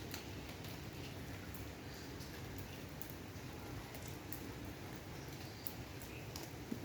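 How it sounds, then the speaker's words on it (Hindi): Heavy rain pours steadily onto leaves in a garden lawn, a dense continuous hiss with scattered faint droplet ticks, no talking. "आवाज़ भी आपको आ रही होगी जब पत्तों पे बारिश गिरती है"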